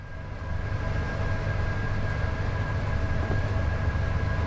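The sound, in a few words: double-headed Class 87 locomotives hauling a steel train, train simulator video game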